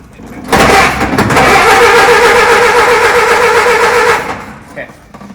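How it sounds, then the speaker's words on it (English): A 1912 Ford Model T Speedster engine cranked over with the choke open, a steady whirring, chugging crank lasting about three and a half seconds, loud and close, then cutting off. "I'm going to go ahead and just crank it over a few times with the choke open"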